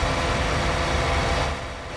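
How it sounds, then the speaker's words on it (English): A John Deere tractor in Farming Simulator 19 runs with a steady, droning engine rumble that holds loud and even, then drops slightly near the end. "Man, that John Deere's noisy."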